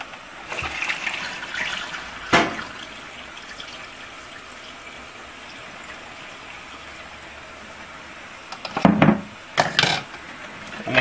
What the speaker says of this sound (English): you're going to take your vodka, you're going to pour it right in the funnel.